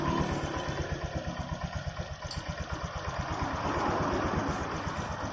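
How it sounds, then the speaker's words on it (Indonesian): A Honda Vario scooter engine idles steadily while warming up, with a close, even putter and light mechanical clatter and no talk over it. "Kita nyalakan dulu sampai motornya panas"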